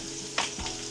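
Burgers fry in a pan with a steady broadband sizzle and a brief louder burst of crackle partway through, close and alone with no voices.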